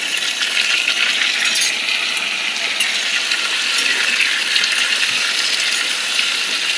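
Potato pieces fry in hot oil in a pan, giving a loud, dense, continuous sizzle with fine crackling pops, heard up close with no talking.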